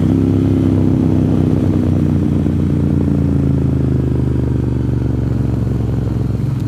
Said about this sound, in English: Oh, motorcycle gang.